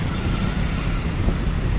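Heavy road traffic in Panchavati, Nashik, during Mahashivratri: a dense, steady low rumble of cars, trucks and buses that runs unbroken throughout, fairly close.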